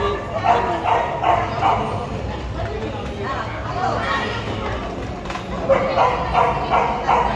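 Small Chow Chow dogs yip and bark in quick bursts amid a noisy crowd, with people talking over them throughout.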